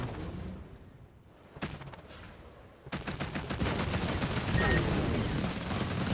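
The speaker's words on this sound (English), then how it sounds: "Oh man, my 2 artillery cannons missed." Artillery cannons fire in a space combat video game, a burst of sharp shots followed by dense rapid gunfire and heavy rumbling combat noise that builds and stays loud to the end.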